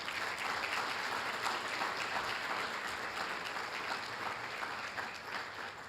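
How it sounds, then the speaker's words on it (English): At a police awards ceremony in Southfield, an audience claps in a steady, even round of applause, moderately distant and sustained for several seconds without speech. "So give them two a round of applause as well."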